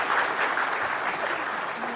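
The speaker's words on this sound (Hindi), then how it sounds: "आप मेरे लिए तालियां तो बजाए ना" Studio audience applause on a television talk show, a steady wash of many hands clapping together at an even level for a couple of seconds.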